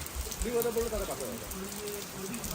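Heavy rain falls steadily outdoors beside a forest canal, a constant faint patter on surfaces, with a voice speaking quietly over it.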